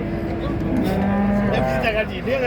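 Calves moo at a cattle market in Çorum, Türkiye, with one long, loud, close bellow over the dense background of other cattle and the bustle of the market.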